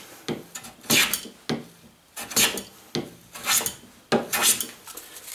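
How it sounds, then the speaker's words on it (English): A hand plane works across wood on hand-cut dovetails in a close, rhythmic series of five or six rasping strokes, each a bright scraping swish separated by short pauses. "We've got that planed off."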